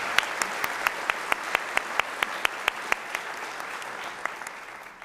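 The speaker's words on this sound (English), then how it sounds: "Let's give him a round of applause for that." A modest audience at a senior hall of fame awards ceremony gives a few seconds of steady clapping, with sharp individual handclaps standing out in a regular rhythm before tapering off.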